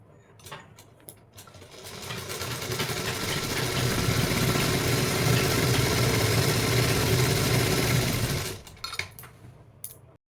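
Sewing machine stitching the seams of ladies' pants: a steady, loud mechanical whir runs for about seven seconds, with a few clicks and taps before it starts and after it stops.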